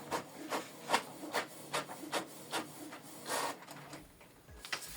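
A Canon TS8750 printer prints a document, making a rhythmic series of mechanical pulses about twice a second as paper feeds through, then a short pause and a few final clicks at moderate, close volume.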